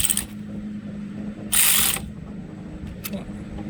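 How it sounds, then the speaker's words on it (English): A ratchet wrench tightens a loose bolt on a Hawk 250 motorcycle's gear shift, with short clicking bursts and one louder metallic ratcheting pass up close. "If we tighten this one and tighten that one, it should be okay."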